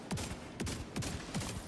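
Turret gunfire in The Division, four heavy bursts spaced evenly about a third of a second apart, loud and close.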